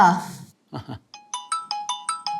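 Mobile phone ringtone for an incoming call, a repeating series of bright electronic tones in regular bursts, heard after a short stretch of speech.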